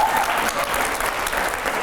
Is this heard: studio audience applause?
yes